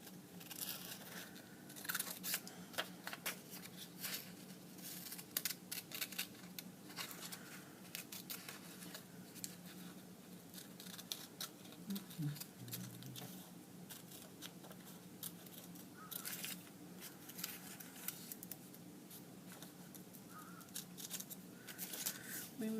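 Scissors snipping through paper for a craft project, a long series of quick, crisp cuts and rustles in irregular bursts, close by and fairly soft, with a faint voice now and then underneath.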